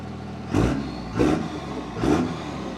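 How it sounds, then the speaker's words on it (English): A Cummins diesel engine swapped into a Land Rover revs three times in a row, each a short throaty surge rising over a steady idle rumble, heard up close. "That thing is a beast. It sounds so good. It actually really does sound good. It's a Cummins."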